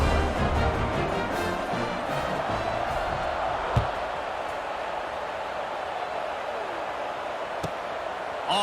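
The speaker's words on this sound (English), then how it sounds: "this crowd is buzzing after that last score" Steady crowd buzz in a football video game, a broad, constant stadium murmur with a couple of faint thuds, filling the background at an even, moderate level.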